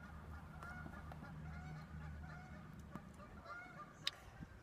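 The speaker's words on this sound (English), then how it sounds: "can you hear those Canada geese out there?" Canada geese honk outdoors in a park, several calls scattered across a continuous low background rumble, moderately distant and fairly quiet.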